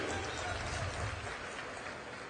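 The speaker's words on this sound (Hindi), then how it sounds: "एक बार जोरदार तालियों से स्वागत करिए।" Audience applause at a Congress farmers' and workers' rally in Chhattisgarh, a dense, steady wash of clapping that fills the whole moment at a fairly even loudness.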